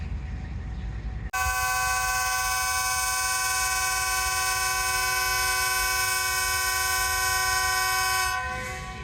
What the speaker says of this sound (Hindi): लें जी, पावरफुल हॉर्न सुन लिया आपने